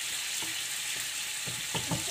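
Carrots sautéing in a pan for Filipino menudo give off a steady, close sizzle, with a few soft stirring scrapes near the end and no voices.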